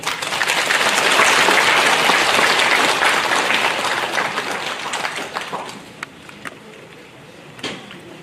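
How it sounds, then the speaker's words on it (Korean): A crowd at a rally on settling past injustices breaks into warm applause for a keynote speaker, loud sustained clapping that swells, then thins into scattered claps before fading. "뜨거운 박수로 부탁드리겠습니다"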